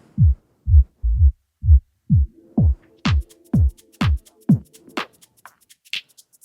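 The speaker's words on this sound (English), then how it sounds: "this is a total kill EQ, so it totally kills each bandwidth" Music played through a Pioneer DDJ-SB3 DJ controller with a kill EQ and high-pass filter: a thumping kick-drum pattern that thins out, the low end vanishing and leaving only brittle clicks and a faint high tone, no talking.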